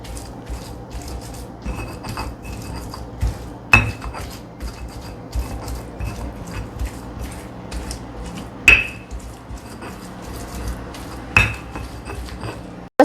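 Garlic and chili sambal being ground with a stone pestle in a mortar: a steady scraping, rubbing grind broken by several sharp clacks of stone on stone.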